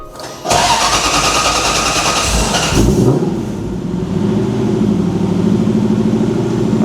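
A supercharged V8 drift truck engine cranks and catches, then settles into a deep, loping idle with a throaty burble from a new custom exhaust, close and steady.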